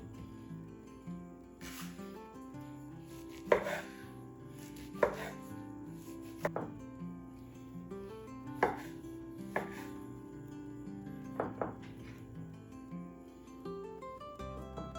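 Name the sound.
chopping bread for a breakfast casserole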